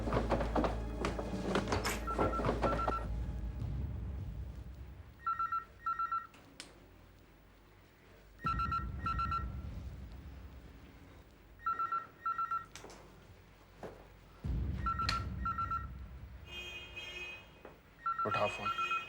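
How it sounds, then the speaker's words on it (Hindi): Telephone ringing in short repeated double bursts between stretches of movement and talk, during a crime-scene search in a CID police drama; several rings clearly separated, fairly loud. "उठाओ फोन।"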